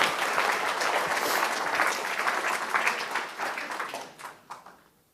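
Audience applause welcoming philosopher Simon Critchley at a talk, a dense wash of many hands clapping that holds steady, then thins out and fades to a few last claps.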